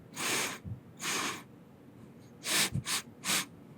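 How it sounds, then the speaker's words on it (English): Close, soft sniffing in an intimate ASMR roleplay: two quick sniffs, a pause, then three more in a rapid cluster, breathy and near with faint room quiet between them. "And you take a sniff too."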